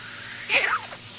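A child gives a single quick sneeze, fairly soft, over a steady background hiss.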